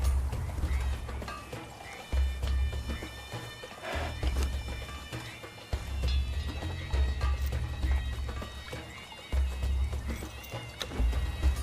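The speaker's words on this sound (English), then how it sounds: "Will the horse walk closer?" Horse hooves clip-clopping in the survival video game Conan Exiles, a steady loud rhythmic thudding of steps that continues throughout with brief pauses, alongside faint game ambience.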